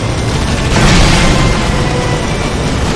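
A dense, roaring blast from the Stuntman Ignition game, swelling around the first second and then rumbling on as a steady wall of noise with no talk over it.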